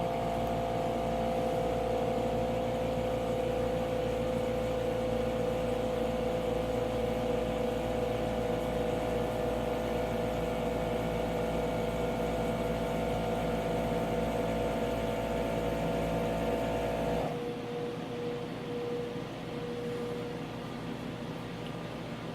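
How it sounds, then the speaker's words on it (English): An Inficon UL 500 dry leak detector powers up and runs its self-tests, giving a steady mechanical hum with tonal whine that holds evenly for a long stretch, then drops abruptly to a quieter, lower drone. "Once we turn it on, the system will boot up and also perform its own self-tests."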